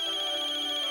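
Steady electronic telephone ringtone, a continuous bright warbling tone with no pauses, sounding alone and clearly present.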